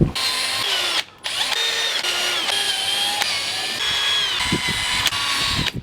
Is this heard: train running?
no